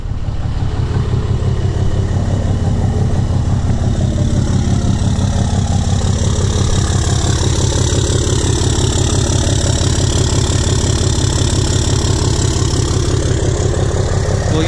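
A Cummins 6.7 diesel truck engine idles loudly and close by, with a steady low rhythmic chugging that holds even throughout.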